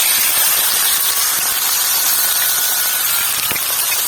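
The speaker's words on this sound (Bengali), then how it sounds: "আস্তে আস্তে করে এই বেগুনটা তুলে দিচ্ছি গরম তেলে।" Eggplant sizzling in hot white oil in a pan, a steady loud hiss with faint crackles throughout, no voices.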